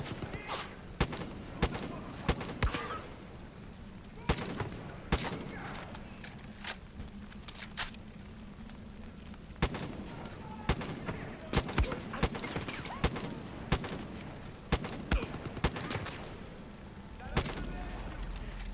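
An M60 machine gun firing in the video game Far Cry 5 Arcade on a custom map, heard as repeated rapid bursts of shots that stay moderately faint over steady game ambience.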